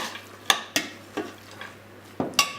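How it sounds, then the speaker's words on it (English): A spoon stirs a mixture of chopped walnuts in a bowl, making sharp scraping clinks against the bowl in an irregular rhythm of about six knocks, close and fairly loud, with no talking. "So I'm giving that a mix."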